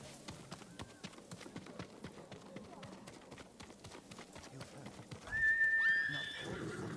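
Horse in the video game Ghost of Tsushima, its hooves clopping faintly in a scattered rhythm before a loud, close whinny bursts out near the end.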